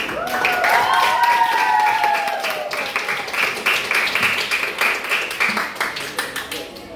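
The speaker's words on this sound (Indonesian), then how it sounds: "Beri aplaus dulu kepada kawan" Classroom applause for a student group: a burst of clapping from a small crowd that holds steady, then breaks into looser, separate claps as it fades, with a voice speaking over the start.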